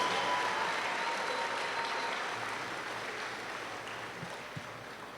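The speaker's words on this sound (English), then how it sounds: "Let's give a tremendous round of applause to the graduates." Graduation convocation audience gives a steady round of applause for the graduates, a dense wash of clapping that gradually fades toward the end, heard from some distance.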